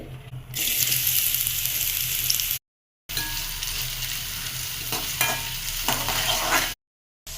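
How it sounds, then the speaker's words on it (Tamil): Pirandai (veld grape) fries in a generous amount of oil in a pan, a loud, steady hissing sizzle with stirring scrapes, close up and broken by two brief silent gaps. "பிரண்டை வணக்கலாம் எண்ணெய் கொஞ்சம் ஜாஸ்தி ஊற்றிக்கோங்க"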